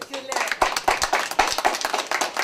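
Audience applause at a Ramadan music show in a Mardin restaurant, steady rhythmic clapping in time, close and loud, with voices mixed in.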